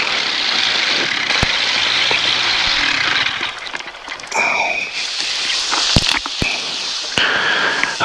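A small aircraft engine drones steadily and loudly throughout a flight and landing, dipping briefly in the middle before returning to a strong, even hum.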